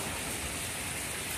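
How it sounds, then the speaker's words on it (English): Steady rain falling outside a garage during a power outage, a continuous broadband hiss with no distinct drops, fairly even and moderately loud, without voices. "Well, it's still raining."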